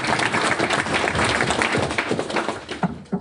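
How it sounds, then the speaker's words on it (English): Audience applause at a Rice Alliance incubator event, a steady dense wash of clapping from a roomful of people lasting the whole stretch, with a few sharper claps near the end. "So give them a round of applause."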